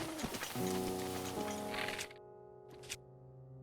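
Steady hiss of rain falling in The Legend of Zelda: Breath of the Wild, layered over sustained in-game music tones; the rain cuts out partway through, and a brief burst of it returns before the music carries on alone.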